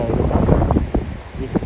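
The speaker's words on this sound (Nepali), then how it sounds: "यति चिसो हावा चलिरहेको छ।" Cold mountain wind high in the Himalayan range near Manang buffets the microphone in brief, rumbling gusts beneath a voice talking.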